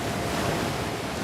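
Ocean surf at Windansea in San Diego rushes and roars continuously, with steady broadband wave wash blended with wind noise, loud and close with no voices.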